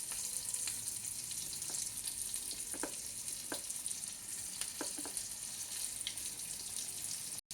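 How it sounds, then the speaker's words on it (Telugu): Paneer pieces deep frying in oil over medium flame keep up a constant bubbling sizzle, with a few sharp clinks and taps at scattered moments and no talking. "ఇప్పుడు దీన్ని ఒక్కొక్కటిగా ఇందులో వేసి ఆయిల్లో వేసి డీప్ ఫ్రై చేయాలండి."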